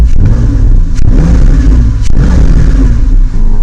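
Loud, close Porsche engine running with a deep throaty rumble and a couple of brief revs rising over the steady idle.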